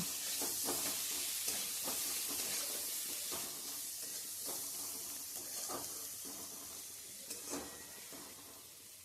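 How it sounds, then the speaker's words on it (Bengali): Mustard flower paste with shrimp fries in a pan, seasoned with turmeric and salt, giving a steady broadband sizzle with repeated scraping stirs at a fairly regular pace; nobody speaks. "এবার কিন্তু আমরা এটা একটু ভেজে নেব"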